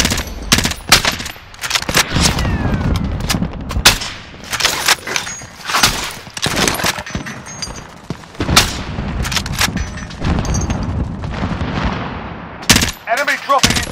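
Dense, close gunfire fills a Call of Duty: Modern Warfare match, with rapid automatic bursts, single cracks and heavier booms overlapping almost without pause while game voice lines sound over the shooting.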